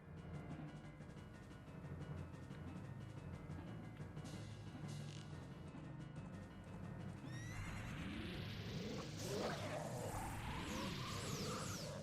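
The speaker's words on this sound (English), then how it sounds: "Oh, there goes his horse." In The Legend of Zelda: Ocarina of Time, a horse whinnies loudly while hooves clatter in a galloping rhythm, with sweeping synthetic effects layered over the busy, continuous soundscape.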